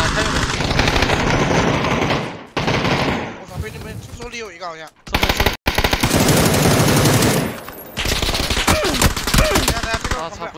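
Loud bursts of rapid automatic gunfire from a video game come in close, dense volleys separated by short gaps, with a player talking in between.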